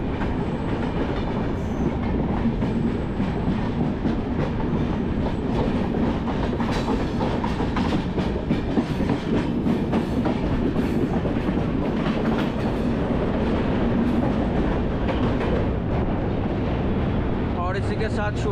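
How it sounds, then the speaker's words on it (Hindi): Ernakulam–Patna Superfast Express rushing past on the adjacent track near Kashi station, Varanasi, heard from inside a moving train: a loud, steady roar of wheels and clattering rail joints throughout, with some voices beneath. "सामने जो आप ये ट्रेन क्रॉस करते हुए देख रहे हो, ये है एर्नाकुलम पटना सुपरफास्ट एक्सप्रेस"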